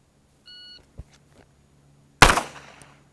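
A single sharp, loud handgun shot from the last round of a 50-round shooting drill, preceded by a short electronic timer beep and a soft click, the report ringing off briefly afterward.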